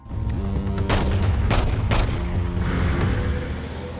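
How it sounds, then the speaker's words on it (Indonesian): Several sharp gunshots crack over a loud, rumbling action soundtrack, spaced irregularly across a few seconds. "Andy yang tidak mau Cassius sampai lolos beberapa kali melakukan tembakan"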